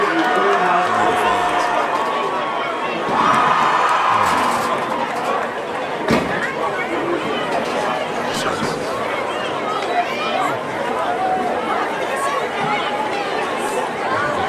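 Stadium crowd at a high school football game, Mayo versus Burnsville: steady chatter and hubbub from many voices throughout, with a swell of louder cheering near the middle.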